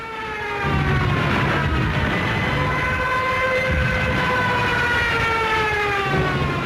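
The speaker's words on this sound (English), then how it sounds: "The German Junkers 87 dive bomber, nicknamed the Stuka, and fitted with a screaming siren." A Junkers Ju 87 Stuka dive bomber's siren gives a loud, continuous wailing scream that holds steady for several seconds, its pitch sliding slightly as it rises, with a rumbling drone beneath.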